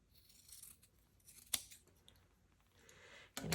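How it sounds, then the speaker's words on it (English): Scissors trim fabric seam allowance during garment sewing, a few quiet crisp snips and one sharper cut, separated by near silence, with a louder rustle of the fabric being handled at the end. "grab your scissors and just trim"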